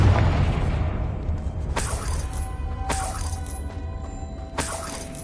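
A Confringo blasting spell goes off in the Hogwarts Legacy video game, a loud boom that opens the clip and decays into rumble, followed by several sharp shattering cracks and crackling debris bursts.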